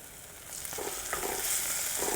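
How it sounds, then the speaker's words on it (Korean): Beef curry ingredients stir-fried in a hot pan, a steady close sizzle with scraping stirs that grows slightly louder toward the end, no voices. "이제 볶도록 할게요"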